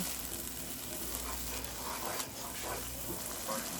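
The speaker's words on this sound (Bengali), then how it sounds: "চাপা শুটকিটা ভালো করে কষিয়ে নিব তেল ওঠা পর্যন্ত।" Blended chepa shutki, a dried fish paste, frying in oil in a pan for spinach curry, a low continuous sizzle with faint stirring scrapes throughout.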